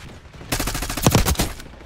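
Call of Duty Black Ops 6 gunfire erupts in a loud, rapid automatic burst lasting about a second, with sharp repeated cracks standing alone without talk.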